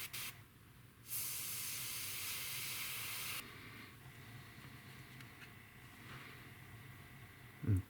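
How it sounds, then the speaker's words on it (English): A PS770 airbrush sprays paint onto a Tamiya P-47M scale model. One steady, loud hiss lasts about two seconds, softer hissing follows, and a brief low thump comes at the end. "So we got the trusty PS770 out."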